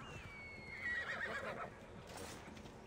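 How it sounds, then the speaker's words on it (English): A horse whinnies in Assassin's Creed Odyssey, a high quavering neigh that rises and falls over about a second, heard fairly close against a soft ambient game background with faint hoof sounds. "You're scaring the horse."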